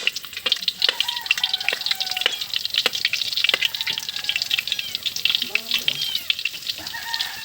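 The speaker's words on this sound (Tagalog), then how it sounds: "Magbisal muna tayo ng bawang." Garlic sizzling and crackling in hot oil in a pan, loud and steady with bursts of spattering, while birds and chickens call faintly in the background.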